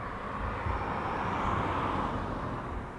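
Airliner taxiing at East Midlands Airport, heard as a steady broad engine roar with a low rumbling base, moderately distant and unbroken, with no voices.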